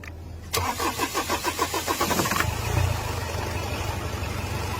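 A weed-covered car's engine cranks with a rapid rhythmic chugging for about two seconds, then catches and settles into a steady, fairly loud idle with no voices.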